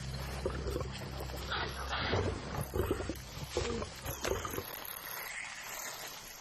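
Lions confronting a honey badger mother and cub in a marsh give low growls and snarls, rumbling and shifting in bursts before fading into quieter rustling near the end, with no talk.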